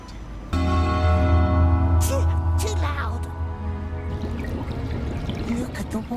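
Steady water pouring and trickling, loud and close from the start, with a voice speaking over it and some sharper splashes partway through.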